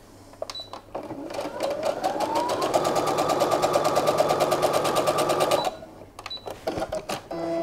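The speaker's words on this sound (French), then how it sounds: "on va coudre les côtés courts" Domestic sewing machine running a normal straight seam along the short sides of fabric placed right sides together, a steady motor whir with rapid needle rhythm for about five seconds, starting and stopping cleanly with quieter handling before and after.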